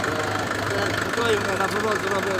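A Chinese Scout 404 tractor engine runs at a steady idle, its close, knocking diesel rumble continuing beneath people talking.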